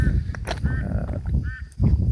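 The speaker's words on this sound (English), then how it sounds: "The ducks also love it" Ducks at a backyard pond quack and honk in short nasal bursts over a steady low rumble of background noise, several calls close by in quick, irregular succession.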